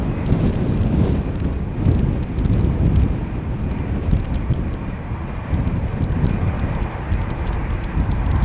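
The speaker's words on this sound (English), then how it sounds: "the A330 is pulling up already" A seven-year-old Delta A330-300 airliner bound for JFK rumbles at Schiphol Airport, a steady broad jet roar heard from a distance, mixed with wind buffeting the microphone throughout.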